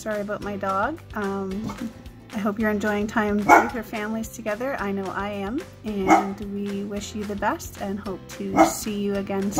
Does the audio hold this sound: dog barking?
yes